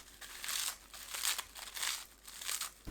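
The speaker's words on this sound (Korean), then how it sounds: "김을 찢어 넣으세요." Dried laver (gim) is torn into seasoned potatoes in a Korean kitchen, giving soft crinkly crackling bursts that repeat in a steady rhythm, close and fairly quiet with no talk.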